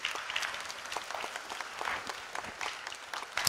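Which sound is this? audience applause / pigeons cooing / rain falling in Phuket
audience applause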